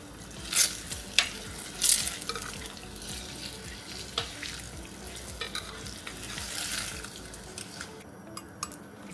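Eggs fry in a pan with a low steady sizzle, broken by sharp clinks and scrapes of a utensil against the pan and a few short splashing bursts, close by and without speech.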